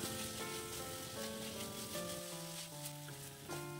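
Chopped tomato and onion sauté in a pan for a Kerala green gram thoran, giving a steady, close sizzle with soft crackling and no talking.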